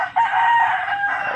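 A rooster crows once, a loud drawn-out call close by, standing alone against quiet surroundings.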